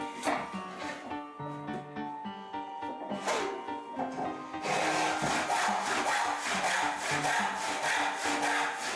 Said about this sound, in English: When ripping short pieces, I don't find any better way to hold the work than vertically in the vise like this.